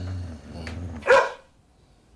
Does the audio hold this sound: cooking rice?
no